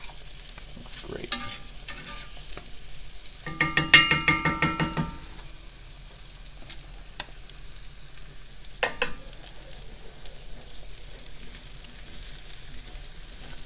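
King trumpet oyster mushroom pieces pan-fry and caramelize over raised heat, a soft constant sizzle broken by a burst of stirring and scraping in the pan plus a few sharp clinks, with no talking.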